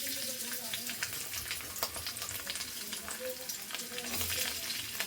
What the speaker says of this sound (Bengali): রসুনগুলোকে হালকা করে ভেজে নেব। হালকা করে লাল করে ভেজে নেব।